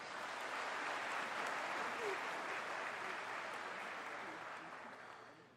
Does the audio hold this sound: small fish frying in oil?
no